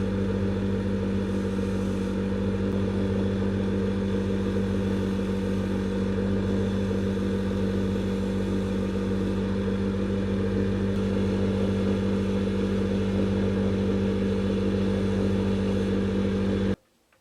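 A belt sander grinds a hand-forged steel axe blade for a bearded axe, a loud, steady whirring drone that holds without a break for about seventeen seconds, then cuts off abruptly at the end.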